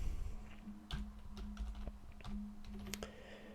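Fingers tapping out a short name on a computer keyboard, a quick, uneven run of close, light key clicks with brief pauses between bursts.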